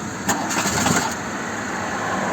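A Volkswagen Jetta Mk2 with a weak battery cranks and tries to start, a short steady mechanical churn close by with a few brief bursts early on and no voices.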